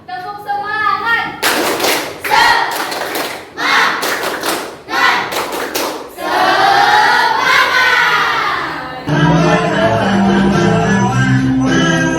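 A school class performs a rhythmic spirit clapping chant, loud bursts of unison claps and thumps in a patterned beat, then children shout together, with a teacher's voice leading between claps.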